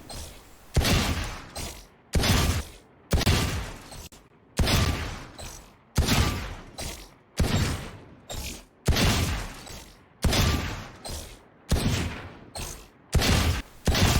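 Sheriff pistol gunfire in Valorant, loud sharp shots often fired in quick pairs, repeating at a steady rhythm with brief silences between each burst.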